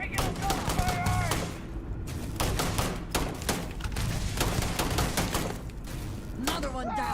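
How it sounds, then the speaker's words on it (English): Rapid bursts of video game gunfire crack in quick succession through a combat scene, with dense overlapping shots throughout and a voice talking over the action. "Regular gunfire!"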